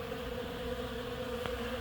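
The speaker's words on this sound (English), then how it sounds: "swarm of bees flying around this" A steady, droning buzz of many honeybees swarming around a hive hums continuously and evenly, fairly close, with no voices.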